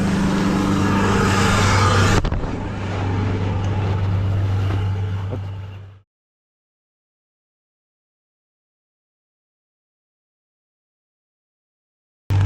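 A vehicle drives along a river road at minus 50 degrees, its steady engine drone and road rumble loud and close for about six seconds before cutting off abruptly into silence.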